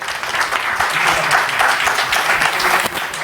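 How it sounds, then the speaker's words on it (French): Audience in a conference hall breaks into loud, dense applause for the organisers. The clapping is steady and close and carries on throughout, with a faint murmur of voices under it. "Si on remercie les organisateurs, on applaudit"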